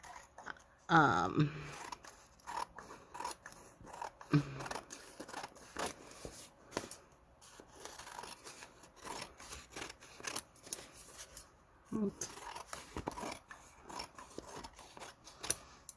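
Scissors snip through Mod Podge–coated fast food napkin paper in a few close, crisp cuts near the start, followed by quieter handling and rustling; no talking.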